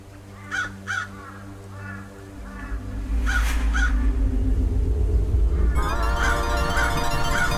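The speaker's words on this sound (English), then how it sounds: "so that scares the birds away" Crows caw in the horror adventure game Dracula's Legacy, a few sharp calls and then several more over a rising low rumble that thickens into a constant droning background.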